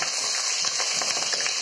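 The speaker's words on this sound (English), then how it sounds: "Now we're going to start frying our onions and tomato" Onions and tomato frying in a pan for spinach stew, a steady close sizzle with scattered crackles and light stirring clatter, no talking.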